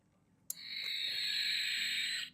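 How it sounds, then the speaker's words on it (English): A bird-sound clock plays an electronic bird call: a sharp click, then a sustained, steady high warbling tone that holds for about two seconds before cutting off, close and clear with no talking. "I bet it's supposed to make bird noises."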